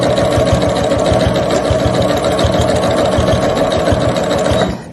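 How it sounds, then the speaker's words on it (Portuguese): A sewing machine runs steadily, stitching a mesh lattice fabric bag with a continuous close rhythmic whirr of needle strokes that stops abruptly near the end. "fazer a costura."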